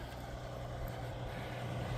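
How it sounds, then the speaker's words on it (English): An old truck driving past, a low steady engine rumble that stays faint and distant throughout, with no voices. "Sweet old truck."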